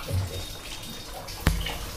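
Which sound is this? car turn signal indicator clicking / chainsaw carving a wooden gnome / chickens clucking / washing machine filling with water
washing machine filling with water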